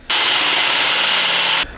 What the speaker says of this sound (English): I think there's like a small clip of me drilling.